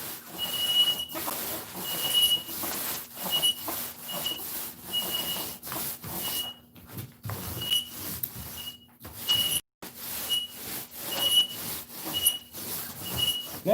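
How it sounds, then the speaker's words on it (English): The roller of a projector screen squeaks again and again with high, thin chirps in an uneven rhythm over a steady rubbing hiss, loud and close. "Sorry about the squeaky roller."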